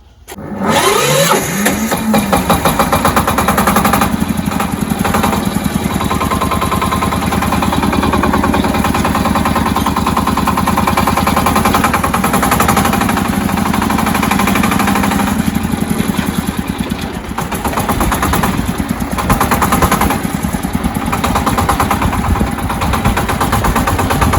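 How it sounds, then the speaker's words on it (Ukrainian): A Shifeng 244B tractor engine cranks, catches and settles into a loud, steady diesel idle close by, with a continuous rhythmic chug and slight shifts in pitch throughout. "Давайте заведу його хоча б вам уже."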